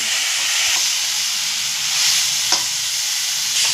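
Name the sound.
spice paste (masala) frying in pan for fish curry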